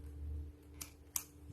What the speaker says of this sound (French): Puis je vais le couper un peu plus.